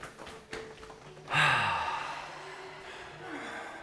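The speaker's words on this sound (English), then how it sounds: "After the 3rd time, come up with an inhale." After a soft tap, one sharp, close inhalation rises as someone comes up from a yoga pose, then trails off into a quieter breath.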